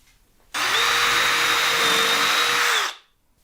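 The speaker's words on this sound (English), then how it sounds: "always drill pilot holes first, especially if you're drilling into the end of a board" A power drill bores a pilot hole into the end of a wood board, one steady high whine lasting about two and a half seconds before it stops.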